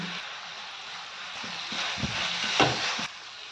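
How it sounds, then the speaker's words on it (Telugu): Dried prawns, onion pieces, green chillies, turmeric and rock salt frying together in a pan for an okra and dried-prawn curry: a steady close-up sizzle with a few louder crackles and stirring bumps near the end, with no talking. "ఉల్లిపాయ ముక్కలు వేగిపోయినాయి."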